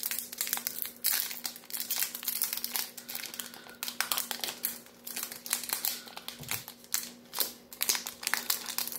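Foil Pokemon Celebrations card pack being opened slowly and gently, with close, continuous crinkling and crumpling of the wrapper in irregular bursts, alone with no talk.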